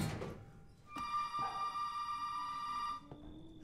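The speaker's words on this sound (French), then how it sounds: "Téléphone, il est par là. Hein. Ça sonne par où?" A telephone rings in the Resident Evil 7 video game, one sustained bright ring lasting about two seconds after a sharp click, set against a quiet, dim room ambience.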